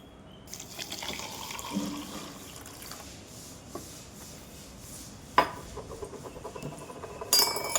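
Water is poured into a glass holding sugar, a steady trickling stream with occasional clinks of glass, close and moderately quiet.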